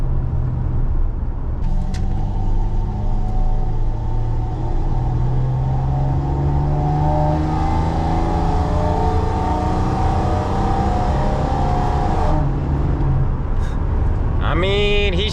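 Chevy 1500 pickup with a 4L60 automatic transmission driving along, engine drone rising and falling through gear shifts, steady and close throughout, with a voice talking over it in places.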